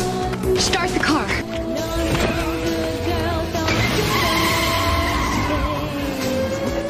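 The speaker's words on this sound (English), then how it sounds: "Start the car." A car launches and speeds off with tires skidding and squealing, sharp pitched screeches sweeping over a loud engine roar that continues throughout, with voices and dramatic music mixed in the background.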